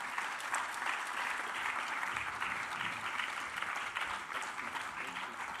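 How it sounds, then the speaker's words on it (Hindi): Audience applause for a young violinist at a founder's day celebration, sustained dense clapping from a large crowd filling the whole stretch, steady and moderately loud. "उसको केवल आशीर्वाद आप लोग अपनी तालियों से दे दें"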